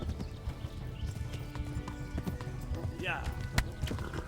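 In Kingdom Come: Deliverance, a horse gallops with steady clip-clopping hooves and lets out a short rising neigh, all under loud game ambience and shouted dialogue.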